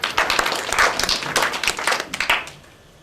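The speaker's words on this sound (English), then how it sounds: "Brandy, give her a round of applause" A small audience gives a short round of applause after a mind-reading act. The claps are fairly close and loose, then fade out over about two and a half seconds.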